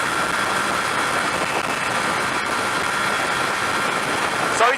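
A 125cc motorcycle engine roars steadily at full throttle on a motorway, a continuous strained buzz with rushing wind noise and no pauses.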